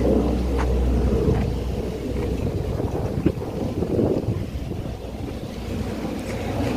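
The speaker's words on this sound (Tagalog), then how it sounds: "Dito talaga yung grabe yung hangin," Steady low wind buffeting the microphone, a constant roaring rush with occasional gusts and faint thumps, no voices.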